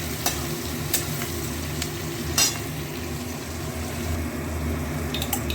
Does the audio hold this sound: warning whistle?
no